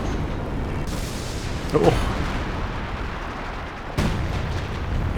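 Howitzer artillery fire in the Company of Heroes 2 video game: a heavy boom near the two-second mark and another blast around four seconds, over a constant rumble of battle and a brief voice.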